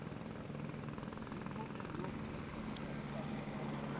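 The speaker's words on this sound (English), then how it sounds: "Yeah, that's for me, the helicopter." A helicopter flying overhead, steady rotor chop and engine roar filling the whole stretch evenly without fading, heard at a distance in an outdoor urban setting.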